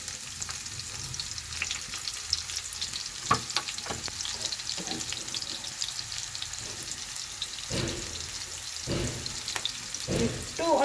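Onions sizzle steadily in a hot pan, a continuous bright frying hiss with occasional scraping stirs and clinks, fairly close and without talk.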